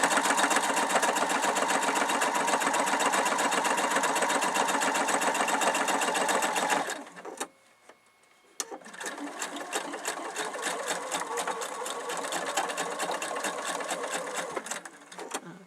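A sewing machine stitches quilt fabric in a fast, steady run, stops briefly, then starts again and keeps going, loud and close with no voices.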